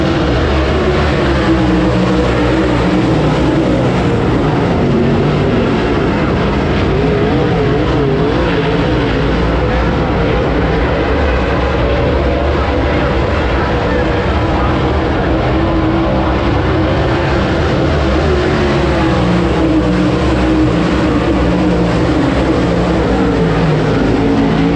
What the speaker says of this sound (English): the noise level of the cars that race around there